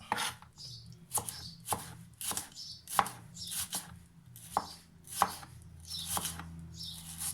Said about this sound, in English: Now, once you've sliced your shallot